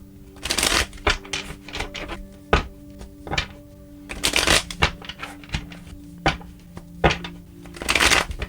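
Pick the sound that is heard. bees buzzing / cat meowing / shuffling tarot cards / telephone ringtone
shuffling tarot cards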